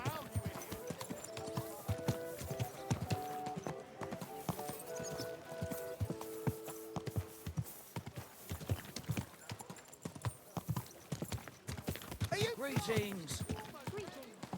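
Horse hooves clip-clop steadily beneath a rider in the medieval game Kingdom Come Deliverance II, a continuous close rhythm running the whole time while someone talks over it and music plays.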